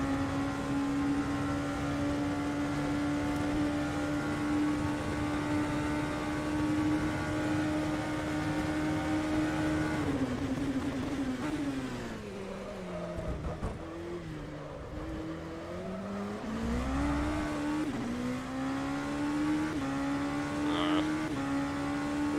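Race car lapping Monza in the Le Mans Virtual Series racing game: a loud, steady high engine drone holds at full throttle, then drops and swoops through downshifts and braking before revving back up, with no talk.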